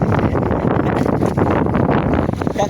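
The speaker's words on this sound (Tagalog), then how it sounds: "Ay maalon mga guys, maalon mahangin." Steady wind roars across the microphone on rough open sea aboard a small fishing boat, a continuous loud buffeting rush with no clear pauses.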